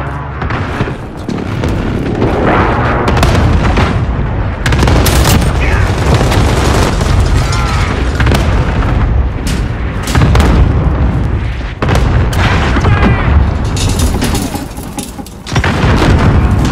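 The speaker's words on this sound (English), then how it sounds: "Allied cluster strike inbound" Loud, dense barrage of explosions and gunfire from an allied cluster airstrike in Call of Duty: Modern Warfare, sustained booms and blasts rolling on without pause, with faint voices in the mix.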